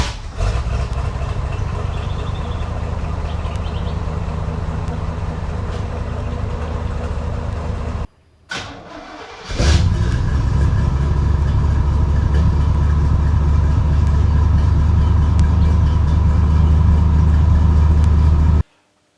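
Stock throttle-body-injected 454 engine idling through a newly installed Flowmaster 50 series muffler, a loud, steady, deep exhaust rumble that dips briefly midway before returning just as strong.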